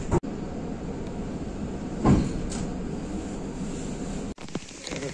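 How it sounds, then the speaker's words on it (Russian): Steady rumbling of an electric commuter train in motion heading toward Nizhny Tagil, with a continuous rolling drone, a brief louder swell midway, and a couple of abrupt cut-outs. "Поехал я, значит, вот на этой электричке в сторону Нижнего Тагила."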